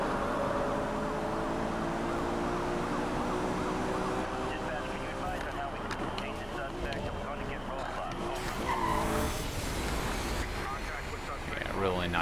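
A race car engine in Need for Speed Rivals roars continuously with rising and falling pitch as it shifts through gears, mixed with tire squeal and a busy, loud mechanical din.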